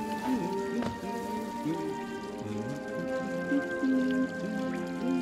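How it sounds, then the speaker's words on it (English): Rain falls in the Hollow Knight video game as steady dripping patter, heard with sustained tonal game music and ambience throughout. "What is this that's raining down on us?"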